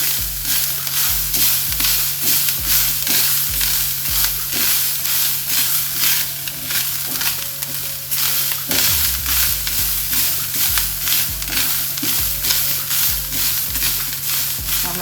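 Grated coconut being stirred and sautéed in a pan, with a steady close sizzle and the scrape of a spoon pushing it around the whole time, no talking.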